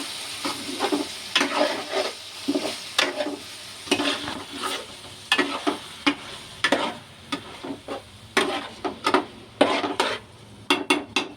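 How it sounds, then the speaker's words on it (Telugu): A spoon stirs ingredients sautéing in a pan for green egg khichdi, giving irregular scraping taps and clinks over a soft, steady sizzle, close by and with no one talking. "ఈ 2 బాగా పచ్చివాసన పోయేలాగా కొంచెం ముందు వేగాలండి."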